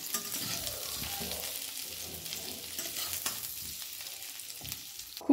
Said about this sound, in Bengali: খুব ভালো করে এটা আমি এবারে এই পেস্টের সাথে ফুলকপিটা মিশিয়ে নেব